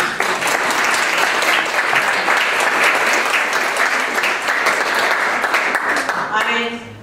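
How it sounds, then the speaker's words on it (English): Loud, sustained applause from the audience at an In-Home Support Services educational forum in an Elks Lodge hall, dense clapping filling the room for about six seconds before tapering off at the end. "Let's give a big round of applause."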